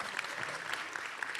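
Brief burst of audience applause at a transcendental meditation talk, a dense steady patter of clapping from a room full of people lasting just over a second.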